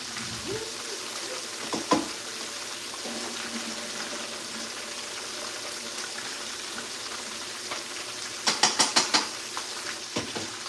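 Chicken frying in hot oil for lunch, giving a steady close sizzle throughout, with a few clinks of pans and utensils and a brief burst of stirring or scraping near the end.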